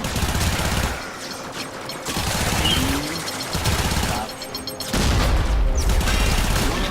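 Sustained gunfire in the Warframe video game, dense bursts of shots running almost nonstop with short lulls, mixed with other game effects at a steady loud level.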